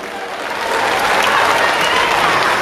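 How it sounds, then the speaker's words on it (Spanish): Crowd applauding at a political gathering in Monteagudo, Chuquisaca, a broad dense roar of clapping that swells after the first second and holds strong to the end. "fuerte los aplausos"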